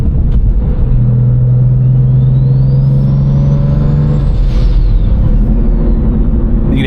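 Differential whine from an E92 M3 differential fitted in a BMW 1M clone car at speed, a steady tonal drone riding over loud road and engine rumble, with a rising and falling whistle partway through.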